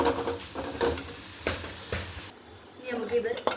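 Tomato egg curry sizzles hard in a hot pan: close, loud frying hiss with bursts of crackle and stirring scrapes, dipping briefly and then flaring again.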